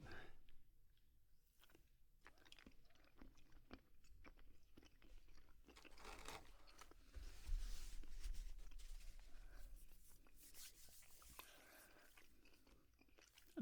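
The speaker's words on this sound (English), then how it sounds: "I'm just going to eat a part of this" Someone bites and chews a sticky pink candy up close, with soft crunching and wet, tacky mouth sounds continuing steadily and quietly.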